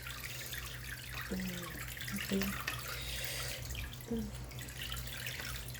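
Water pours from a container into a 5-gallon planted aquarium tank, a faint steady splashing and trickling with a few brief gurgles over a low hum.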